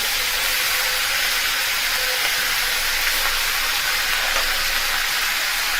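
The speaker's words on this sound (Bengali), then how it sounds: "এবার বাকি চাল কুমড়োটা আমি আস্তে আস্তে দিয়ে দিচ্ছি।" Ash gourd pieces slide gradually into a hot pan for a vegetarian bori curry, raising a steady, loud sizzle and hiss that holds evenly from start to finish, with no voices.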